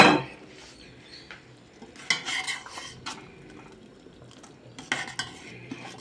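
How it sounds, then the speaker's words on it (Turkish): A ladle stirs sour meatball stew in a pot, giving soft scraping and clinking against the metal with a few sharper knocks, close by and without talk. "Kepçeyle de karıştırıyorum da bununla dibinin tutmamasını sağlıyoruz"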